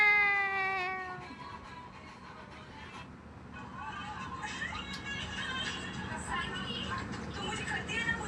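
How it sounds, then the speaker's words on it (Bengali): A cat gives a single clear meow at the start, followed by soft background murmuring and faint household noise. "সুদর্শন বিড়াল তুমি। মিয়াও।"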